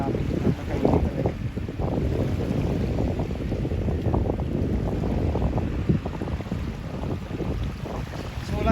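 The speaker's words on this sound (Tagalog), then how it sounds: "Dito talaga pag nasa dagat kakasagap ka talaga ng hangin." Strong wind buffeting the microphone out on open water near the Davao River mouth, Davao City, a continuous roaring rumble with faint wave wash underneath and no talk.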